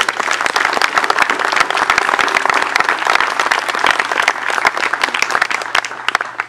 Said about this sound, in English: Give them a special round of applause.